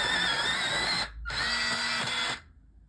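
An electric sharpener grinds a colouring pencil in two loud, steady whirring bursts of about a second each, split by a brief pause, recorded up close.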